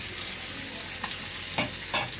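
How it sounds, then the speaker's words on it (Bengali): Koi fish frying in hot oil on a home stove, giving a steady close sizzle with a few brief louder crackles and pops, no voices. "একটা দিয়ে দিলাম, ভাজা হোক।"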